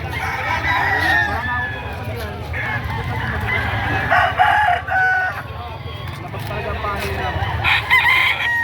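At a Batangas chicken market, roosters crow and hens cluck in a busy mix of repeated calls, some near and some farther off, with people talking in the background.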